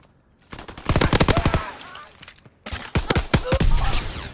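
Close, loud gunfire in Call of Duty WW2, two rapid automatic bursts of many sharp shots separated by a short pause, dominating the mix.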